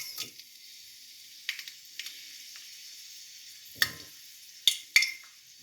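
Dried red chillies frying in about three tablespoons of hot oil, a steady soft sizzle broken by a few sharp crackles and pops, with no talking.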